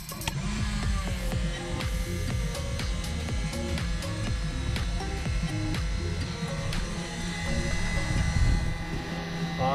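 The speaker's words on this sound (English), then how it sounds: "Fuel pump on." Electric fuel pump running in a Piper Cherokee Six airplane, a steady continuous buzz with a dense mechanical drone and faint ticking throughout.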